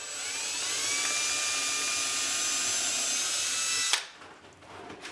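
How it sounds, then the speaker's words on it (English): A power drill bores a pilot hole into the wooden door of a birdhouse, whining steadily and loudly for about four seconds before cutting off abruptly, leaving quiet room noise. "So now I'm going to drill a pilot hole in here."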